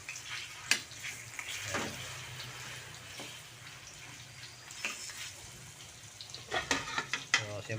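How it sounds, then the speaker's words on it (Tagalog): Chicken pieces frying in hot oil in a pan before being cooked into adobo, a steady close sizzle with scattered pops, stirring scrapes and light clinks of utensils throughout. "Isa lang natin yung manok. Iprito muna natin bago i-adobo."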